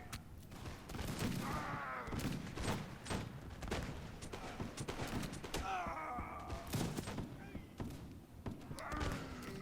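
Musketeers in L'aigle fire a ragged volley of musket shots, sharp cracks and thuds scattered across the whole stretch, with groans and a few spoken phrases underneath.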